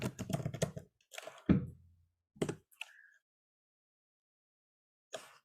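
Fingers type on a computer keyboard in clusters of quick, close clicks, with a burst of keystrokes, a few scattered taps, then a long pause before a final short run.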